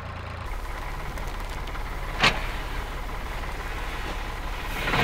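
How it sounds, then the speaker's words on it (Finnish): A winch hauls heavy logs with a steady mechanical drone and engine rumble, broken by one sharp scraping burst midway and a rising whine near the end. "Tukki voi painaa satoja kiloja, mutta tulee ihan kevyesti tällä vinstillä."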